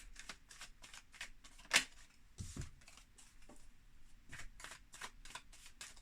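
Tarot cards shuffled by hand in rapid riffling bursts, close and soft, with a repeating rhythm of short rustles and one sharper snap partway through.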